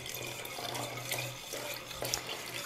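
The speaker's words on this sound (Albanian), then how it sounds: "Do t'i shtojmë ujin me gaz." Sparkling water poured into a dough mixture for a quick Albanian byrek, giving a steady close liquid pour with fizzy splashing and a low hum underneath, without any talk.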